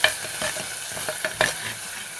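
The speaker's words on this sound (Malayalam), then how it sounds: "കറിവേപ്പില ഇട്ട് കൊടുത്തു." Curry leaves are added to hot oil already holding shallots and green chillies for a chayote curry. The oil sizzles and crackles loudly up close, with stirring scrapes throughout and no talking.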